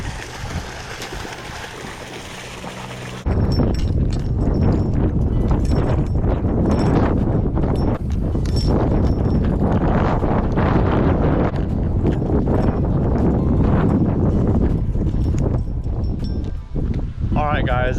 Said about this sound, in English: This wind is just unreal. It's picked up way too much.